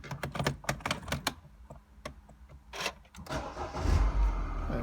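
A 2014 Mini Cooper convertible starts up: a series of sharp clicks and rattles from the key and ignition come first, then the engine cranks, catches and settles into a low, steady idle close by.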